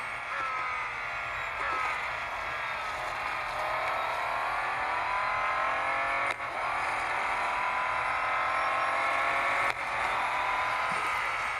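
Bentley Continental GT3 race car engine in a racing video game, a steady, loud sustained engine drone with rising and falling pitch as it accelerates, brief dips near the middle and end, running continuously throughout.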